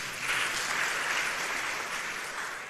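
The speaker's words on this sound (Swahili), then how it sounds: "Mchipikieni makofi kabisa." A crowd applauds steadily at a Kenyan political gathering attended by President Ruto, with a dense wash of clapping that stays level and fairly distant throughout, and no voices above it.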